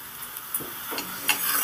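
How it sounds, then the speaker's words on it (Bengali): Onions fry in oil under a steady sizzle, and a spoon stirs them with a few light scraping strokes against the pan, heard up close. "ভালো করে একটু নেড়ে চেড়ে দেব"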